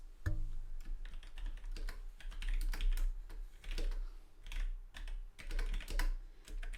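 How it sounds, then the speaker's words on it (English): Keys clatter on a computer keyboard as text is entered into an input field, in quick irregular bursts of close clicks over a quiet background. "if I write now in the text input field"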